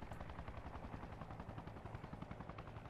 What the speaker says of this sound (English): Small arms fire at the chopper, sounds like.